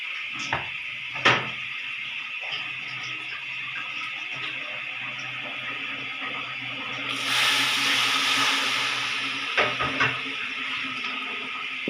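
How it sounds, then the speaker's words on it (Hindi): Water poured into a pan of cooking chicken and potatoes for Punjabi chicken aloo rice brings a short rush of hissing sizzle midway, over a low simmer with a few nearby knocks. "थोड़ा पानी इस्तेमाल करूँगी मैं।"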